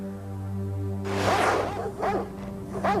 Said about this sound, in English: real video of 16-year-old Borema Zubre being viciously attacked by 2 Rottweilers